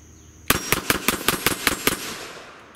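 A Kel-Tec PMR30 pistol fires a quick string of about eight sharp, loud shots in a steady rapid rhythm, each crack ringing out briefly before fading into a short tail.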